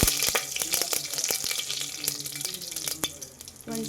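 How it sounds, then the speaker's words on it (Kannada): Whole spices such as bay leaf, star anise and marathi moggu, with kasuri methi, fry in a pan for a soy veg pulao, giving a close, steady sizzle broken by frequent sharp spoon clicks and scrapes. "ಎಲ್ಲನೂ ಚೆನ್ನಾಗಿ ಲೈಟಾಗಿ ಫ್ರೈ ಮಾಡ್ಕೊಳ್ಳಿ"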